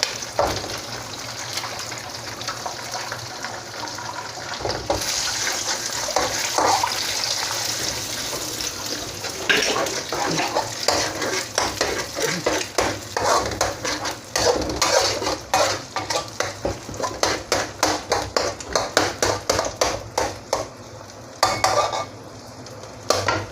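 Rice vermicelli noodles and egg, with no meat, stir-fried home-style in a pan, give a steady close sizzle while a utensil scrapes and clacks against the pan in quick repeated strokes, the clatter getting busier toward the end.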